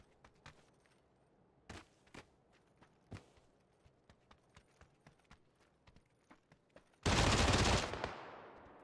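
Gunfire in a console shooter game on PS4, PS5 or Xbox: scattered sharp cracks and clicks, then a sudden loud, dense blast of shots near the end that slowly fades.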